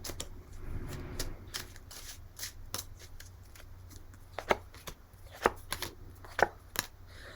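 Tarot cards being shuffled and drawn for a reading, with a soft riffling rush followed by a string of sharp card snaps and flicks, close and clear, no talk.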